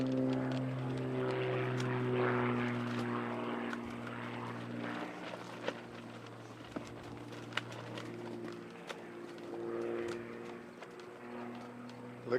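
A propeller aerobatic airplane flying a roller at a 2025 US Nationals competition, its engine droning steadily at a distance with rising and falling pitch, while people talk quietly nearby.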